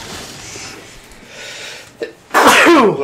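A single sharp human sneeze bursts out near the end, close and loud, after a stretch of quiet room noise during a gaming session.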